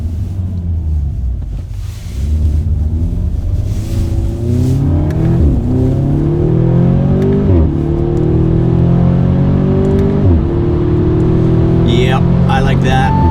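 An Audi S3 with an MBRP 3-inch cat-back exhaust rumbles and revs through several rising pulls and downshifts, pitch climbing and dropping as gears change, loud and close throughout.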